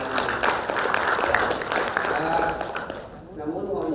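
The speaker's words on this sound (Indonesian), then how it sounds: "Tepuk tangan untuk semuanya." Applause from an audience at a government launch ceremony in Bekasi Regency, a dense steady patter of many hands that fades out near the end.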